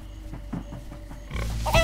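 Pig grunting in the video game Minecraft Story Mode, a quick series of low oinks and snorts, close, followed by a louder burst of game noise.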